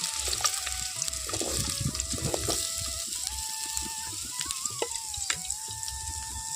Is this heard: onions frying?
yes